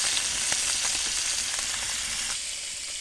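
Small fish sizzle in hot oil alongside pointed gourd, a dense close frying hiss with light stirring that drops slightly near the end.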